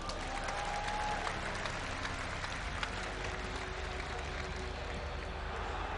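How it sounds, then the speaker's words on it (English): Faint, distant applause from a crowd at a StarCraft II esports semi-final at Gamescom, a steady patter of clapping that holds for several seconds. "Ladies and gentlemen, give a round of applause for Azubu's Violet."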